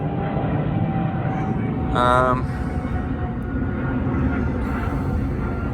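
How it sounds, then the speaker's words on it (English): A steady low roar of an airplane passing overhead fills the clip, with a brief warbling tone partway through. "Well, stupid airplane."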